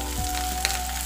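Small shallots frying in a pan for a sadya vada koottu curry, giving a faint steady sizzle with a light crackle, close and without voices.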